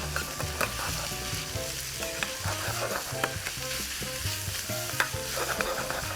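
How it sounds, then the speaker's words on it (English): Garlic and onion soften in oil in a pan over reasonably high heat, a steady close sizzle broken by repeated stirring scrapes, with no talking. "all we're doing here is just softening that garlic down and the onion"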